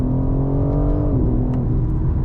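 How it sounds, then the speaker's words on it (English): BMW G82 M4 engine revving steadily at close range, a continuous harmonic drone whose pitch holds, then dips slightly before settling, with no voices. "M cars, they just exaggerate with the revving, right?"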